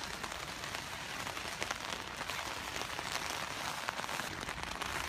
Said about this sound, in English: It's a bit raining.